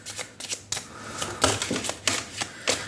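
A Lenormand card deck is shuffled by hand, the cards slapping and riffling in uneven, clumsy bursts at close range.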